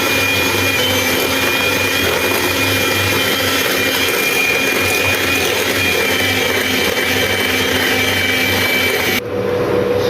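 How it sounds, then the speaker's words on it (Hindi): Electric beater whirs steadily through a jelly mixture for a no-bake mango dessert, a loud continuous motor whine with a high steady tone, cutting off abruptly near the end. "इसको फिर थोड़ा सा हम बीट करेंगे इस तरह से"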